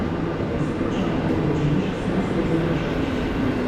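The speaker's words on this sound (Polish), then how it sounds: "Wagon połówkowy i kolejny wagon połówkowy" Railway wagons roll steadily past at Kraków Główny station, a continuous loud, close rumble of wheels on track with faint clatter and no voices.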